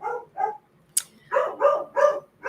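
A dog barks at a mail carrier indoors, giving two short barks, a brief pause, then three louder barks in quick succession, close and clear with no talk.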